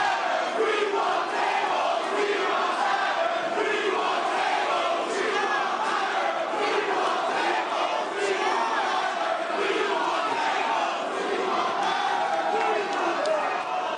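A wrestling crowd at a House of Glory live show roars and chants continuously for the main-event tag team title match, loud and sustained, with shouted cries and voices throughout.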